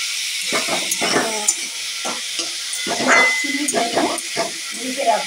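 Curry for a tiffin lunch is stirred in a pan, with scraping spoon strokes and bursts of sizzling repeating in an uneven rhythm, close and moderately loud.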